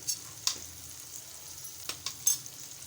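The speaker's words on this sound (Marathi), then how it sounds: "मिश्रण छान एकजीव करून घेत आहे चार लसणीच्या पाकळ्या घालत आहे" Garlic cloves go into a potato and onion mixture frying in a pan for Malvani potato bhaji, with a faint soft sizzle and a few light spoon clinks against the pan.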